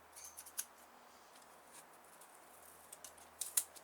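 Scissors snip at the paper wrapping of a parcel holding a Bachmann class 411 EMU model, a few quiet, crisp cuts at the start and a sharper cluster near the end in an otherwise hushed room.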